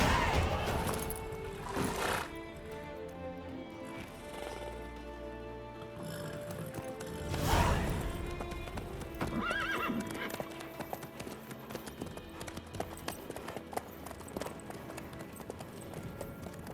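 Horse hooves clip-clop at a gallop in The Witcher 3, a steady rhythmic pounding with occasional whinnies, laid over in-game music and ambient sound.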